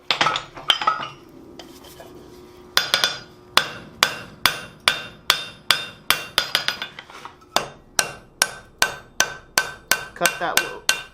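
A hammer strikes hot steel on an anvil while a nub is cut off the center of flat plate tongs, giving sharp metallic ringing blows, first irregular and then in a fast, steady rhythm, close and loud.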